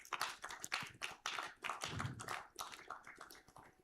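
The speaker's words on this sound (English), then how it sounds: "Let's give her a round of applause" A small audience at an annual farmers' organisation meeting claps for a farmers' cooperative representative, a sparse handful of distinct, uneven hand claps close by rather than a full ovation.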